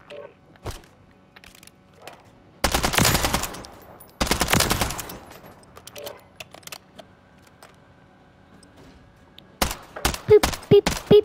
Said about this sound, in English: this submachine gun has like no recoil